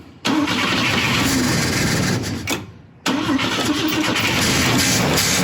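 A Volvo 164 with a B30 engine starts for the first time since 1994 and settles into a steady, fairly loud idle, cuts out briefly, then restarts and keeps running evenly.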